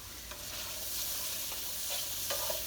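Shrimp sizzle quietly in a pan for a burrito bowl, a steady soft hiss broken by a few scraping stirs of the utensil, with no one speaking.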